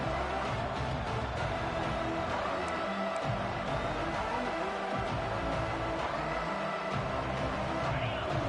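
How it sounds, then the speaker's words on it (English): Dense, steady roar of a large crowd in a stadium during a Georgia vs. Alabama college football video game, loud and continuous throughout with a broad wash of many voices and no pauses. "Listen to the crowd energy here in the early going."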